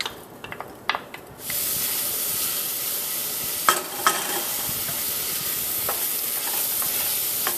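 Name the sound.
onions sautéing in melted butter in a pot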